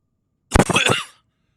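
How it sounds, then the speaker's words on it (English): A single short cough straight into a close microphone, a sudden loud burst in a few harsh pulses that fades within about half a second, with silence before and after. "Sorry for coughing in your ears there for a second."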